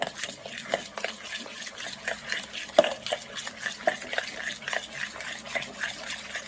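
Dough for Parisian gnocchi being stirred vigorously with a tablespoon in a pot, giving continuous close scraping and sticky slapping strokes at a quick, uneven rhythm.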